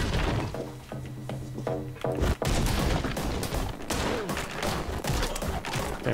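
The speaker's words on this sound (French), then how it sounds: "Putain, il m'a tiré dessus quand même." Gunfire in the first-person action game Anger Foot, a dense burst of loud shots and impacts crashing in over a musical backing, with repeated cracks and thuds continuing close and loud throughout.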